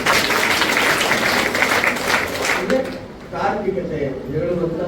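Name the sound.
audience applause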